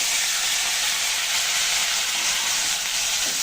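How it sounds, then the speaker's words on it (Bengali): Shrimp frying in hot oil in a pan, a steady loud close sizzle with no break and no talking. "এখন ওই তেলের ভেতর আমি চিংড়িগুলো ভেজে নেব"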